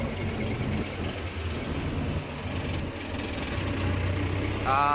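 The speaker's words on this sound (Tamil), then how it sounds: "டைனமோ பெல்ட் ஸ்லிப் ஆகுது." A vehicle engine idling with a slipping dynamo belt makes a steady, loud, close mechanical rumble and whir throughout, with a brief high squeal rising near the end.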